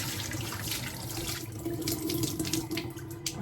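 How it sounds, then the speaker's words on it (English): Kitchen tap running steadily into a sink while hands are washed with soap, a continuous soft splashing with faint rubbing, fairly quiet and without talk. "Make sure to wash your hand with soap."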